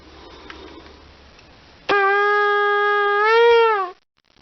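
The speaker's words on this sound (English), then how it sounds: "I have the white shofar" A white shofar made from a ram's horn gives one long, loud sustained blast that rises slightly in pitch and swells near the end before cutting off, after a quiet stretch of room noise.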